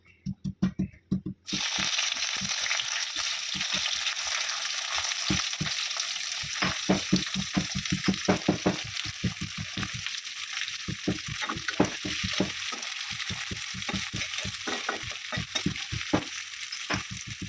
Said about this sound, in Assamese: পিঁয়াজখিনি ভাজা যাব লাগে, অকণমান সময় লাগিব। পিঁয়াজখিনি ভাজি লওঁ